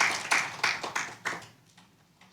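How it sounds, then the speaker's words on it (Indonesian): Audience clapping for the worship leaders and musicians at a church women's service, a short burst of sparse, fairly close hand claps that fades out after about a second and a half. "Boleh kasih tepuk tangan buat para worship leaders dan musicians."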